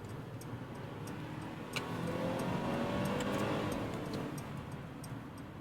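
Engine burble from a 2016 Mercedes-Benz C300 sedan accelerating up an on-ramp, a steady low rumble of engine and road noise that swells slightly mid-clip, with faint ticking above it and no talk.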